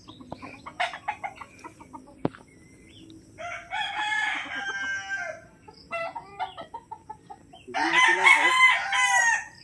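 A rooster crows repeatedly at close range, loud drawn-out calls in separate bursts with quieter clucking and rustling between them.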